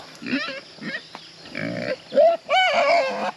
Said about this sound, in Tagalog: Ayan yung mga free range sa ating baboy dyan sa loob.